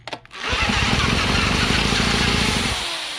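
A 1940s Johnson Seahorse KD15 outboard boat motor is pulled over, catches and runs loudly for a couple of seconds, then sputters and winds down.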